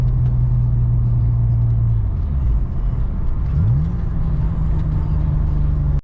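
A six-speed Acura Type S car pulling steadily in second gear, its engine a loud, continuous rumble close by with the pitch dipping and then climbing again as it accelerates; no talking.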